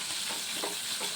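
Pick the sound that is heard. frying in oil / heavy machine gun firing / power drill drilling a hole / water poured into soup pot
frying in oil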